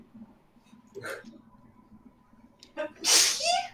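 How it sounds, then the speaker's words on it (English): A single short sneeze bursts out near the end, close and fairly loud, after a quiet stretch with faint breathing. "It's a sneeze. It's a cute sneeze."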